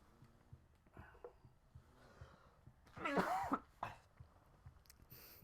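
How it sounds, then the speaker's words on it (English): One short, sharp cough bursts out close by in a quiet room, followed by soft breathing. "I got a cough."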